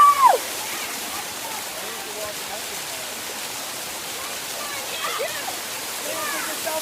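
A steady wash of rushing water from a waterfall on a hiking trail fills the background as an even roar, with a brief higher voice-like sound at the start.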